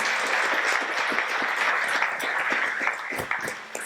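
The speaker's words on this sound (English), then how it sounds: "Please give him a round of applause" A large audience applauds the moderator, Swope Health's president and CEO, at a Kansas City affordable-housing event, with steady dense clapping filling the room throughout.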